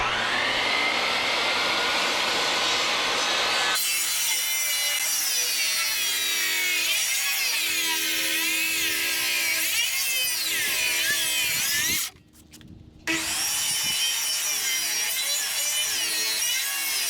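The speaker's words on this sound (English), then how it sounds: "Now I can lay out the tenons on both ends and cut those." A saw cuts wooden tenons on saturated garage posts, a loud continuous rasping drone that runs almost unbroken, pauses briefly near the end, then resumes.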